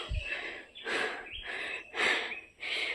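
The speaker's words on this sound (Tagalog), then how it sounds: "Hingal na ako." A person climbing a mountain trail on a Holy Week pilgrimage pants heavily, with four rhythmic, breathy gasps close to the microphone and faint birdsong behind.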